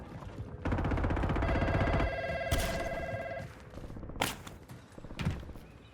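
A telephone rings with a bright, electronic tone for a few seconds during a tense armed patrol, then several dull thumps and sharp knocks follow nearby.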